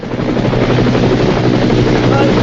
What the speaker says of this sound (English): gave you the helicopter sound along with some explosions